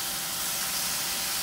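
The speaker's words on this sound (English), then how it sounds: "You hear that sizzling?" Herbs, garlic and onion powder sizzle in a hot pan with a steady, close, even hiss and no talking.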